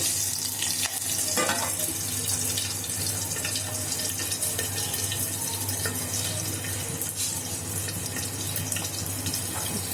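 Green chillies sputter and crackle in hot oil for rava dhokla, a dense continuous sizzle with scattered sharp pops running steadily throughout, with no talking.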